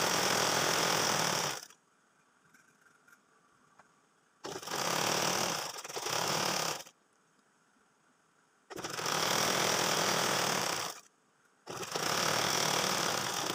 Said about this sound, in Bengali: এবার আমি এই পায়ের নিচ থেকে এখান থেকে সেলাই বসিয়ে নিব, আর এখানে অবশ্যই ডাবল সেলাই করে নিতে হবে